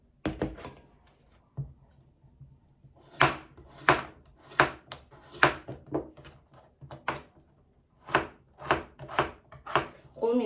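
Potatoes are chopped by hand with a knife on a board while making a meat pie, giving sharp, close knocks in uneven bursts of quick strokes separated by short pauses, with little else heard.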